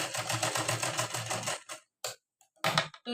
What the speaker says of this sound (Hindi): यहाँ से सबसे पहले सिलाई करेंगे। यहाँ पे सीधी सिलाई।